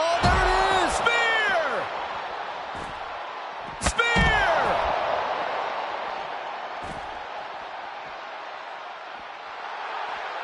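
A spear tackle lands in WWE 2K25 parking-lot brawl, heavy slam impacts at the start and again around four seconds, with ringing crashes, a crowd murmur and commentary over the top.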